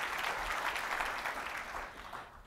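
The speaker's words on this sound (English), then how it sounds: "round of applause for you two" A live audience at a leadership talk gives a round of applause, a dense steady patter of many hands clapping that fills the room and slowly fades toward the end.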